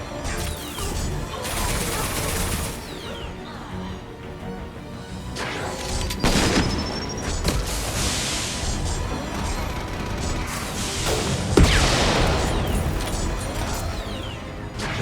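Chaotic combat in Mass Effect 2: loud crashing impacts, mechanical clatter and scattered shots blend into a continuous battle din, with a sharp bang near the end and little talk.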